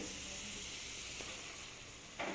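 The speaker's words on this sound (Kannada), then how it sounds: "ಇದನ್ನು ಚೆನ್ನಾಗಿ ಫ್ರೈ ಮಾಡಬೇಕು ಟೊಮೊಟೊ ಪ್ಯೂರಿ ಹಾಕಿದ್ಮೇಲೆ" Tomato puree sizzling and frying in a pan for chana masala, a steady bright hiss that holds throughout with a brief stir or spatter near the end.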